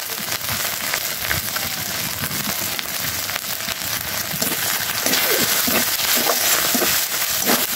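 Turmeric and chili powder frying in oil with ginger and garlic for a fish-head dal, a steady close crackling sizzle with faint pops and no talking.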